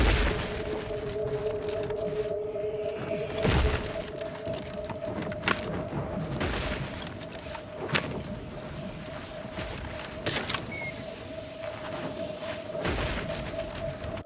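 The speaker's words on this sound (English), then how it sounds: "They are firing at fixed locations, I reckon," Gunfire and booms in the video game The Outer Worlds 2, with several heavy booms and sharp shot bursts spread across the clip over a steady tonal game hum.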